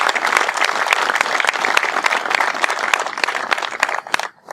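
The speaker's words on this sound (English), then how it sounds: "let's give them a big round of applause" Audience applause for congressional staff at a Veterans Day gathering, a lively burst of many hands clapping with sharp individual claps standing out, continuing for a few seconds before dying away abruptly.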